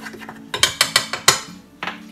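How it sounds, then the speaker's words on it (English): A spoon stirs salt into cake batter in a bowl, making a quick run of about six sharp clinks against the bowl's side, close and clear, with a short pause before a final knock. "we'll just give that a good stir to incorporate"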